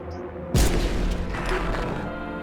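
A single loud gunshot fired in the horror game NO, I'M NOT A HUMAN, a sharp boom followed by a lingering reverberant tail, with no talk over it.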